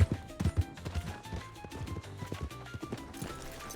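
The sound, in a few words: horse hooves in video game Red Dead Redemption 2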